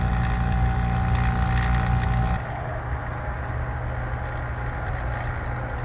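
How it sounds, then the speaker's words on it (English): A vacuum pump hums steadily and loud nearby during AC compressor service on a John Deere tractor, its drone dropping partway through and then continuing at a lower, rougher level. "Pump is running."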